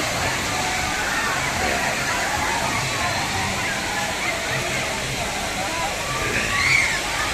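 Water from an artificial waterfall splashes and pours in a steady, loud, continuous rush that fills the whole span without a break, with no speech heard over it.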